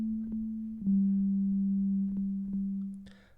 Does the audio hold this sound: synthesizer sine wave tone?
yes